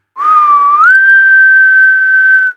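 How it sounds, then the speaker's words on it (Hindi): One long, clear, eerie whistle for a horror story, starting low, sliding up to a higher steady pitch and holding it for about two seconds before stopping abruptly, loud and alone. "उसे एक अजीब सी सीटी सुनाई दी।"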